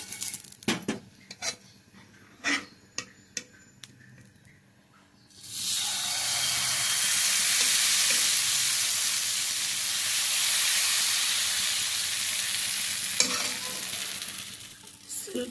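Dosa batter hits a hot pan and bursts into a loud, steady sizzle lasting about ten seconds, after a run of scattered utensil clinks and taps.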